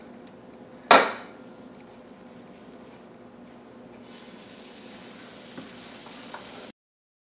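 Sourdough English muffins cooking in a pan start with one sharp knock, then a soft, steady sizzle that grows louder and brighter before cutting off abruptly.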